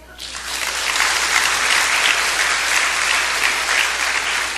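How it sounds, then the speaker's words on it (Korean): A church audience bursts into steady, loud applause during a pastor's lecture, the dense clapping rising within the first half second and holding evenly to the end with no voice on top. "박수"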